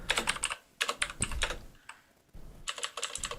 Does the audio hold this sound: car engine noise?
no